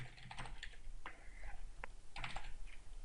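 Keys on a computer keyboard are tapped in irregular bursts while Python code is typed, close and clear, with short pauses between clusters of keystrokes and no speech.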